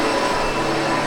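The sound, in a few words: SEBO Automatic X7 Boost ePower vacuum cleaner running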